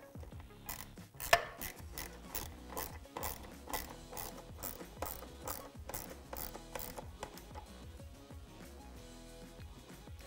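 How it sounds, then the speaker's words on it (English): A hand ratchet clicks in quick repeated bursts as screws are driven into the underside of a KTM 690 Enduro mudguard. The sharp rhythmic ratcheting is close and clear, with one louder knock early on and no talking. "we can install the 3 screws on the bottom side of the mudguard"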